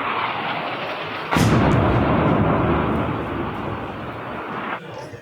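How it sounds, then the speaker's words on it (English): Distant explosions from military strikes at night, a sudden deep rumbling boom that rolls on for several seconds before fading, heavy low roar outdoors with no voices. "you can hear explosions in the distance"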